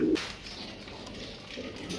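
Soft coos from white Murassel pigeons murmur at close range, a low throaty call near the start and again toward the end, over a faint steady background.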